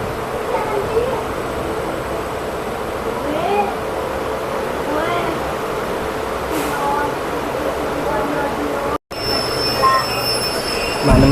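A train rolls along after departing Jawar railway station, a steady rumble with intermittent wheel squeals and faint rattling, and a brief break near the end.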